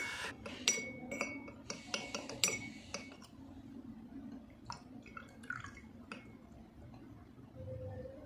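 Nitric acid being added to a mixture and stirred in laboratory glassware: quick bright glass clinks and taps, clustered early and then sparser, over a faint low background.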